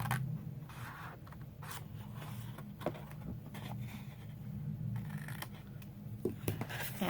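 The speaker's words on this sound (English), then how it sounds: "so I'm going to cut that right off." Scissors cut paper for a caramel apple treat bag in a quiet, close crafting setup, with soft, repeated slicing and rustling over a low steady background hum.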